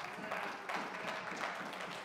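Church congregation clapping steadily in praise during a French-language sermon, a dense, continuous wash of many hands that holds at an even level throughout.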